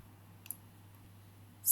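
A single faint, sharp computer mouse click sounds early on in a quiet room, with another brief click near the end.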